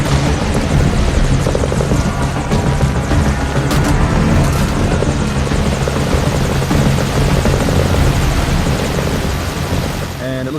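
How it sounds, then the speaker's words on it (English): A helicopter in the Metal Gear Solid V: Ground Zeroes game drones loudly and continuously, its dense rotor and engine roar holding steady throughout while it takes fire. "looks like our chopper is taking fire"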